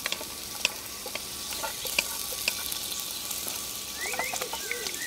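Ginger, onion and tomato fry in a pot over an open fire and are stirred, with a steady soft sizzle, scattered scraping clicks and faint bird chirps in the background.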